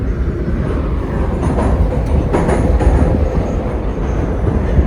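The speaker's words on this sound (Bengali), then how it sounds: "এই মেট্রোর এই রেকটা কিন্তু বেশ যথেষ্ট মডার্ন বাট খুব আওয়াজ করে এই মেট্রোটা" A metro train in Tashkent, Uzbekistan, rumbles loudly and steadily from inside the carriage, with rattling and faint high squeals over the heavy low roar.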